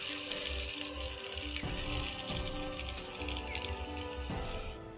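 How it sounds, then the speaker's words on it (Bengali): Extra water poured into a simmering village-style shukto curry of vegetables with a milk and flour mixture, a steady continuous pouring splash lasting nearly the whole stretch before stopping. "এখন আমি এখানে এক্সট্রা কিছুটা জল দিয়ে দিচ্ছি"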